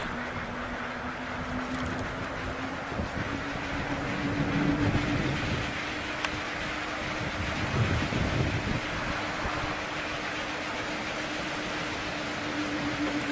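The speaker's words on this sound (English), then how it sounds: "a little wind is coming up here." Wind rushes steadily around a Skystream wind turbine with 97.5-inch blades, heard from close behind the machine, with a faint continuous hum running under the broad gusty noise.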